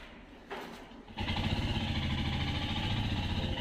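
A motorcycle engine starts up after a couple of short cranking bursts, then settles into a loud, steady idle close by, with no talking.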